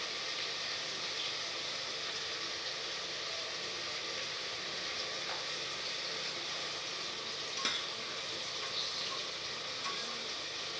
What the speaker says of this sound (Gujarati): આ ગ્રેવી શેકીને તૈયાર થઈ ગઈ છે